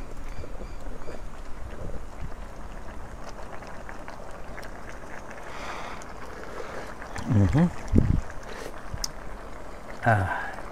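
Wind blows steadily outdoors while ginataang kalabasa with mixed vegetables is cooked, a constant rough rushing noise buffeting throughout with a few short louder gusts and bumps, and people talk over it.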